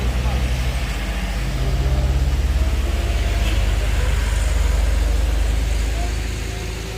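Truck traffic on a road in rain, a heavy low engine rumble that swells and fades as large vehicles pass close by, continuous and moderately loud throughout.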